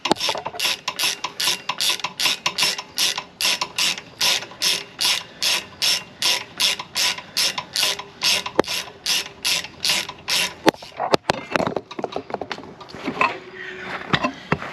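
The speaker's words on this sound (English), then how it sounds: "we're just going to take a 5mm Allen here, loosen up this pin" A 5mm Allen wrench on a ratchet loosens the rear brake pad pin on a 2007 Harley-Davidson Sportster motorcycle, giving a long run of loud, steady, rapid ratchet clicks up close before ending in scattered clunks and handling noise.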